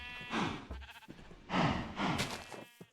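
Minecraft cows moo in low, drawn-out bursts, two or three calls close together over a quiet game background, with no talk.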